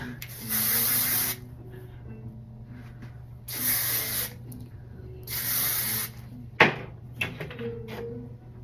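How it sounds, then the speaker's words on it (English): Three separate hissing bursts of hairspray onto the front of a wig, each about a second long and close up, with quiet pauses and a low steady hum in between. "All right, now I'm just gonna spray the front."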